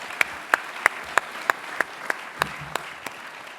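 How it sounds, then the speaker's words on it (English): Sparse applause from a summit audience in Sydney, with about a dozen distinct claps in an even rhythm, fairly faint and roomy, with no voices over them. "Please give them a round of applause."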